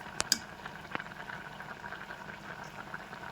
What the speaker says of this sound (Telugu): ఇంతలోపు మన పప్పు అయితే ఉడికిపోయింది చూడండి